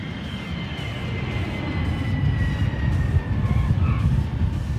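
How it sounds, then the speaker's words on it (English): A Boeing 747 jumbo jet lands on a test flight, with a steady, loud broadband engine and wind roar that holds throughout, faint high whines weaving over the top and no talking. "guides the jumbo jet into a smooth landing"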